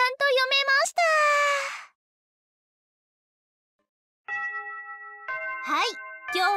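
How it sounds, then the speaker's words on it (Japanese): A school bell chime signals the end of classes in a visual novel, a clear multi-tone ringing that rises after a pause, following a brief stretch of voiced speech. "放課後を告げるチャイムが鳴って、本日の授業もすべて終了となった。"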